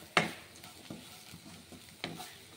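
Beetroot fry is stirred in a pan with salt and turmeric: one sharp scrape of the spoon against the pan, a few soft knocks, then another scrape, all quiet and close.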